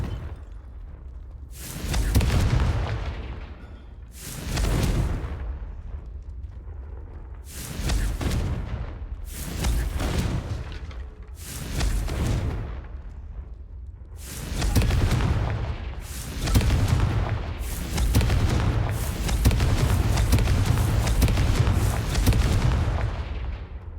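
Confringo spell explosions in the video game Hogwarts Legacy: a rapid series of loud, booming blasts, about ten in a row, each with a rumbling decay, overlapping toward the end.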